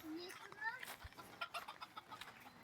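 Small chickens clucking near a pool area, soft intermittent clucks mixed with children's voices and adult chatter outdoors.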